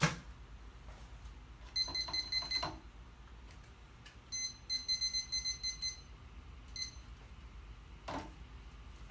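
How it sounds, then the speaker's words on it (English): A timer goes off in a chiropractor's treatment room, sounding as two bursts of rapid, high-pitched electronic beeping over a low background hum. "I guess when we hear that timer"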